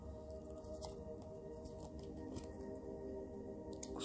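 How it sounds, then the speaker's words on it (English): Tarot cards shuffled by hand during a work and career reading, giving soft, irregular riffling clicks and snaps over a steady tonal background hum. "It's actually really hard to shuffle with the camera like this."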